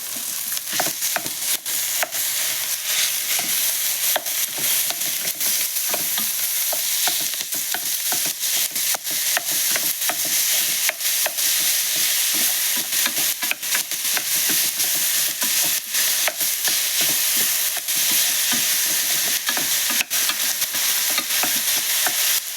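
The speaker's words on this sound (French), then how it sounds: "Donc là maintenant on va rajouter la viande avec l'ail" Meat and grated garlic fry in a pan, a bright continuous sizzle broken by frequent scraping stir strokes, close up and without speech.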